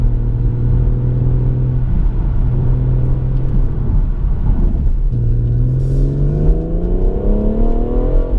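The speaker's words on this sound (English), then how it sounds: "I'm going to put it into sport. National speed limit, thank you very much" A BMW M140i in sport mode accelerates hard on an open road, its engine note rising steadily in pitch through two surging pulls with a brief dip between them, loud and close from inside the car.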